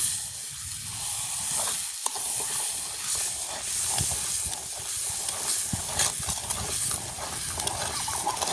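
Sugar being stirred into a pan along with turmeric during village-style cooking, giving a steady hiss and sizzle with scraping stir strokes throughout, close and fairly loud, no talking.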